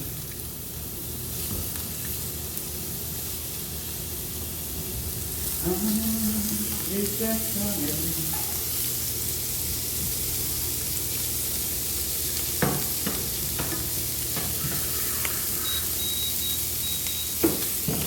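Continuous close sizzling of ham frying in oil, a steady bright hiss with occasional utensil clicks and a short faint tone partway through.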